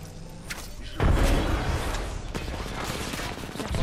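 Weapon fire in an Apex Legends ranked match, with a burst of shots hitting hard at about one second, then continuing rapid, dense firing and impacts over a noisy, busy game mix.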